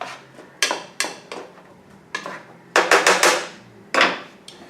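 Sharp knife chops strike a wooden cutting board in irregular bursts while chopping garlic, some single, some in quick clusters, close and fairly loud.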